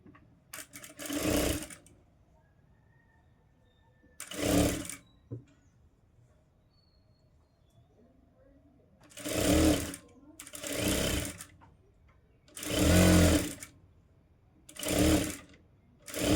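A sewing machine stitches the front part of a 32-inch blouse in six separate bursts of whirring, each lasting a second or so, with quiet pauses between them and no talking.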